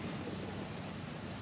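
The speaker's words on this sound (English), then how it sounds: "Hear that noise? And now the drone is powered on." Faint steady whirring hum of a Ruko U11MINI 4K drone powering on, an even high-pitched motor drone with no variation and no voices.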